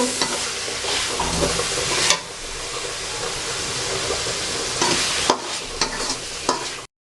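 Onions with cinnamon are stirred and fried until brown in a pan for a tomato chicken curry, giving a loud, continuous sizzle broken by scraping stirs near the end, with no talking.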